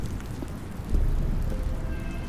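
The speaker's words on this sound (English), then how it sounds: "I hear thunder and rain and I'm getting all soggy" Rain and distant thunder rumble inside the video game The Stanley Parable: Ultra Deluxe, a steady downpour hiss with a low swell of thunder rolling in about a second in and lingering.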